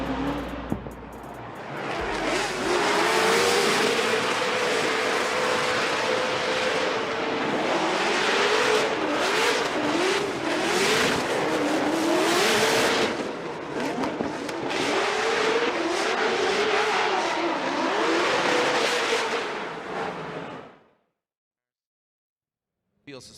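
Formula Drift race cars, a supercharged LS-powered Nissan Sylvia S15 and a BMW E36, rev hard and scream continuously with wavering engine pitch and tire noise, loud and sustained for about twenty seconds before cutting out, with commentary over it.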